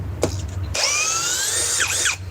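A cordless power drill runs loud and close for about a second and a half, its motor whine climbing slightly in pitch before spinning down, with no talk.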